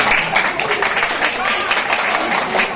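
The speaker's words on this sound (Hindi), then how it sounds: "अब इससे ताली बजाएंगे सब।" Steady applause from a school audience, dense and continuous throughout, filling the hall evenly at moderate loudness.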